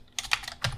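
Keys clatter on a computer keyboard in short irregular bursts of clicks and a spacebar press, close and fairly quiet, with no voices over them.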